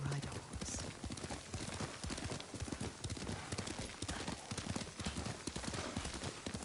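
Horse hoofbeats from riding in Ghost of Tsushima, a quick steady clip-clop rhythm that runs throughout under faint ambience and soft voices.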